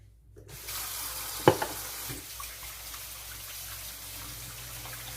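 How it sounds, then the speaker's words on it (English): Tap water runs steadily into a kitchen sink while hands are washed during casserole bread prep, a constant broadband wash with a couple of brief clunks near the start. "I'll wash my hands."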